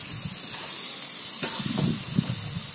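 Chicken keema with tomato sauce sautés in a pan, sizzling with a steady hiss as a spoon stirs and scrapes through it in a few soft bursts, close and alone.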